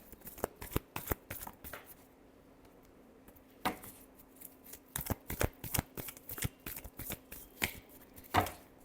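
Tarot cards are shuffled by hand in a run of close, crisp riffles and slaps, irregular bursts separated by short pauses.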